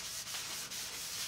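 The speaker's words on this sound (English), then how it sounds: "I'm actually going to take a little sanding sponge, and I'm going to give it just a little bit of sanding" A small sanding sponge rubs over painted Easter decor in a chippy-paint finish, a close, steady scratchy swish with brief pauses between strokes.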